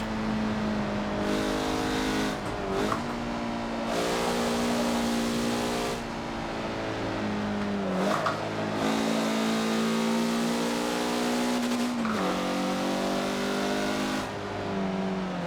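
A 2013 Mazda MX-5 Cup race car in Forza Motorsport 7 on the Nordschleife revs hard and continuously, its engine note climbing through the gears with brief dips at each shift, loud and close throughout.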